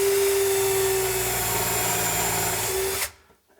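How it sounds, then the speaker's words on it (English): Cordless drill with a self-centering Vix bit boring a pilot hole for an undermount drawer glide in a wooden drawer, a steady close, loud whine for about three seconds that stops abruptly, with no talk. "I have a self-centering drill bit."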